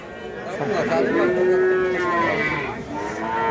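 Cattle at a cow market lowing, one long, close, loud moo swelling and fading with other animals and faint background murmur around it.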